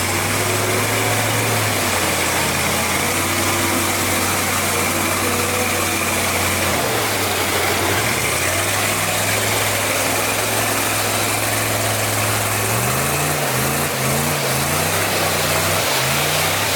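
A heavy off-road vehicle engine idles steadily with a deep, throbbing drone, shifting pitch slightly a few times, loud and close, no talk.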